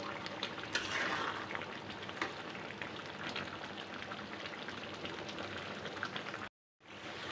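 Food frying in oil in a pan during a home dish cooked with lemon leaves, a steady close crackle and sputter with no speech, cutting out briefly near the end.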